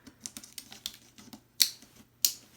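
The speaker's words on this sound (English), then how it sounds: "I'm going to go ahead and peel it off of here" Heat transfer vinyl peeled from its carrier sheet during a multi-layer Cricut project, giving a run of soft crackly ticks and then two sharp, louder ripping bursts, close and quiet, with no talking.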